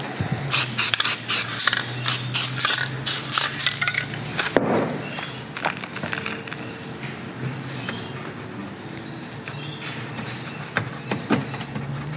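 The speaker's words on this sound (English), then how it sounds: "spray glue." Bursts of spray glue from an aerosol can hiss in short repeated blasts, then a longer quieter stretch with scraping and faint clicks, close by.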